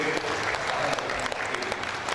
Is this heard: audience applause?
yes